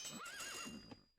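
Horse in the Rise of Nations strategy game giving one short whinny with a rising and falling pitch, close and clear, fading quickly into silence.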